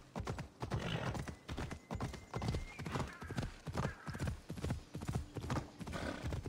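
Horse hooves clip-clop in a video game, a steady rhythmic run of quiet, evenly spaced hoof beats lasting several seconds, with a faint whinny mixed in.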